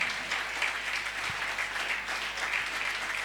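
Church congregation applauding and cheering in praise, a steady, moderately distant wash of clapping with no break, plus a faint low thump or two.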